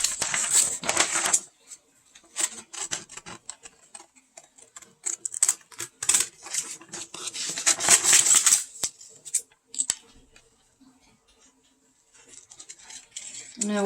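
A clay piece being cut out by hand, heard as irregular scraping and tapping clicks, close and fairly quiet, in bursts separated by short pauses.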